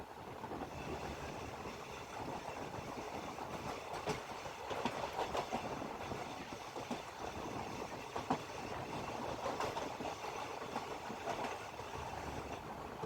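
A train running fast on the Pune–Miraj line near Rukadi station, Kolhapur, a steady rumble with rhythmic clicking of wheels over track joints, heard continuously from inside or near the train.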